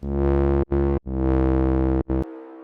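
A Serum 2 bass synth runs through a bandpass filter set near 189 Hz with resonance and drive, giving loud, buzzy, harmonically rich sustained notes chopped into a few gated bursts, then a thinner tail.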